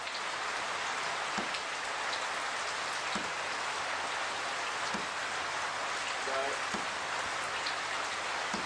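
Steady rain hisses down during a morning safari drive at Djuma Game Reserve, a constant faint wash with occasional soft knocks and no clear talk.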